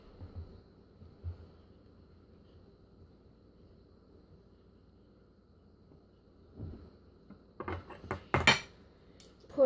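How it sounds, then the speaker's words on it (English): Dirty dishes and cutlery being put away in a kitchen while cooking twice baked potatoes: quiet handling at first, then a cluster of sharp metallic clinks and clatters near the end, close and fairly loud, with no talking. "Put our dirty dishes away."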